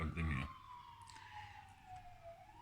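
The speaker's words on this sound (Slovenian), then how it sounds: "To je klinični center zraven in se slišijo te sirene" Emergency siren beside a hospital clinical centre, one long wailing tone sliding slowly downward, heard at a distance and fairly faint, with a short burst of talk at the start.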